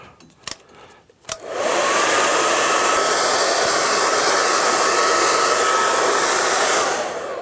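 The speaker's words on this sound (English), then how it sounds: "Now I get myself a hairdryer." After a couple of sharp clicks, a hair dryer switches on and blows a loud, steady whoosh close by for several seconds to dry a painting, easing off slightly at the end.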